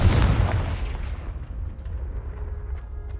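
Confringo spell explosion in Hogwarts Legacy: a single sharp, loud blast at the start that decays into a long rumbling tail, with no speech over it.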